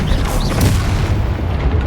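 A Bombarda explosion spell in the Hogwarts Legacy video game, a loud deep blast that booms and rumbles on for a couple of seconds amid busy game effects.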